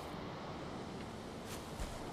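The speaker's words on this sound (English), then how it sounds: "I guess that's just the wind." Steady, soft wind blowing in the Valheim video game, a continuous even whoosh with no other sounds over it.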